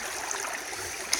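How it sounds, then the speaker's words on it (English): A fast-running river at The Island in Warrandyte rushes with a steady, broad watery roar close by, continuous and unbroken with a couple of small splashes, no voices. "The water's running fast"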